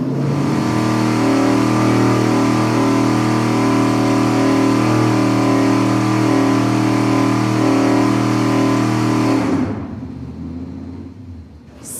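An engine on a dynamometer is held steady at 4,700 RPM, its peak torque. A loud, sustained mid-pitched drone with steady harmonics runs for about ten seconds, then drops abruptly as the revs fall away.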